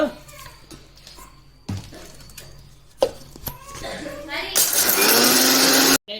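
A kitchen mixer grinder whirs loudly for about a second and a half, grinding a coarse spice powder for drumstick leaf chilli powder, after a stretch of close talking and clatter.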